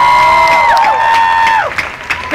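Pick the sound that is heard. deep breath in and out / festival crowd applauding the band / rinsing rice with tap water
festival crowd applauding the band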